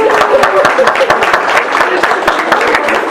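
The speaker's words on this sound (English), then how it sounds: "Give her a nice big round of applause for her." An audience at a court reporting continuing-education event in Chicago applauds steadily, dense rapid clapping filling the room close and loud.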